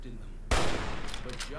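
A riot shotgun fires in Fallout: New Vegas, aimed at a Yao Guai: one sharp, loud blast with a rumbling tail, followed by softer game sounds.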